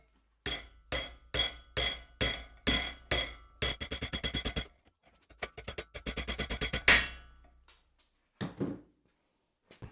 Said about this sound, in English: smack them with a hammer and see what happens